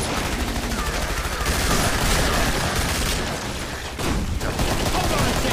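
Rapid gunfire shooting mutant clones in the video game Killing Floor, with dense, continuous bursts of automatic fire and booms filling the whole stretch at a loud, steady level.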